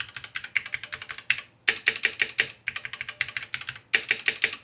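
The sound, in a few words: typing on mechanical keyboard with red switches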